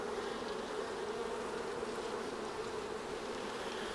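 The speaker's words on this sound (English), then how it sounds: "It's a great sound hearing the girls buzzing." Dense, steady buzzing of many honeybees up close at a hive, a continuous humming drone with no voices.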